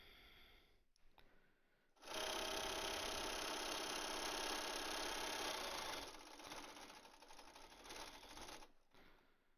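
A sewing machine runs steadily while stitching a fabric face mask, starting after a brief pause and holding a loud continuous whir for several seconds before easing off.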